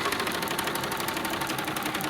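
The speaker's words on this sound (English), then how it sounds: "So I'm just going to sew my seam. I'm going really slow." A domestic sewing machine stitches a quarter-inch seam on fabric for a round pillow, running slowly and steadily with a continuous, rapid mechanical whir and tick, close and alone without talk.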